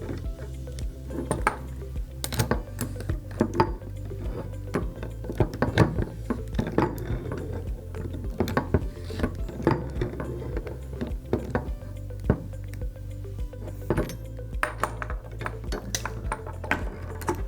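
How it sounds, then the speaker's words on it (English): Metal hose fitting being threaded back onto a valve, giving a steady run of soft clicks, taps and scraping metal clinks at close range with no voice over them. "we're going to re-thread our hose piece back onto the valve, making sure we get a nice seal"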